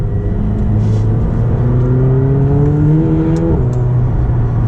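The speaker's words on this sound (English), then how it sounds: "Now you do hear a lot of turbo noise, which is pretty cool." A steady McLaren 720S Spider engine drones at close range with the convertible top up, its pitch gradually climbing with a whirring turbo tone, then dipping briefly before settling again.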